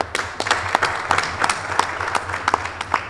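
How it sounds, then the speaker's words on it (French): An audience at a women's collective gathering opposing repeal of an anti-excision law claps in a short burst of applause, uneven individual hand claps rising and falling over a couple of seconds. "On applaudit pour Oumi."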